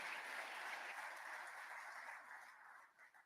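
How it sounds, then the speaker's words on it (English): Large audience applauding at the Tesla annual shareholder meeting in Texas, a broad sustained roar of clapping heard from a distance that begins to thin and fade toward the end. "A huge round of applause, please."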